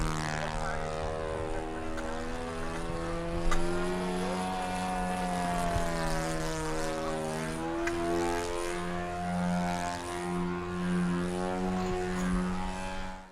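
A radio-controlled model airplane drones steadily overhead with a sustained propeller whine, its pitch rising and falling as it passes and circles, carrying on evenly for the whole stretch with no talk.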